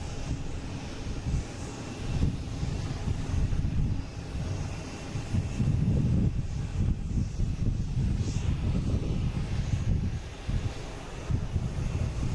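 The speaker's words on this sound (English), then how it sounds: "Heading to LAX, 757-200, flight 318." A Boeing 757-200 airliner heading to LAX gives a steady, low, rumbling engine roar from a moderate distance. The broadband drone holds continuously throughout with no speech.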